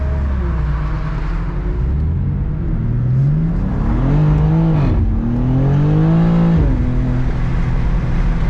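A BMW G87 M2 accelerates hard from a standstill, its engine note climbing loudly through the revs with a clear gear change partway, close and continuous with no talking.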